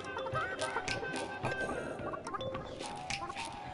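Hens clucking in the video game Burly Men at Sea, a run of short, choppy bird calls with bright chirping tones over a soft ambient game background, no speech.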